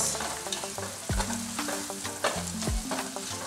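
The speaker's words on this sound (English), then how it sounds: "I'm just going to stir fry this for a minute to let everything release." Ingredients for Kenyan pilau are stir-fried in a pan, a loud, close, continuous sizzle with scraping stirs and a couple of clanks from the utensil against the pan, with no talking.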